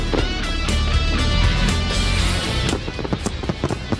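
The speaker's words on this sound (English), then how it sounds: "the ThorSport team is enjoying the fireworks tonight" Fireworks burst over the dirt track at Eldora after a NASCAR Camping World Truck Series win. A dense, loud roar of crowd and bangs gives way to a rapid string of sharp firecracker pops near the end.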